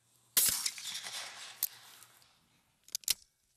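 A shotgun fired at a trap target on an outdoor range, a sharp distant crack followed by a rolling echo, then a couple of quieter clicks and a second short crack near the end.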